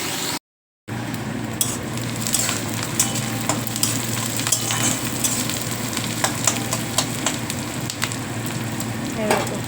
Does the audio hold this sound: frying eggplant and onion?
yes